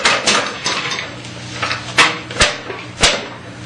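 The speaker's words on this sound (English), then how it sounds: "we're going to put the arbor on the headstock. And the lower saw guard," Metal saw arbor and lower saw guard being fitted onto a Shopsmith headstock: a run of close clanks and knocks of metal parts, with several sharper taps standing out near the end.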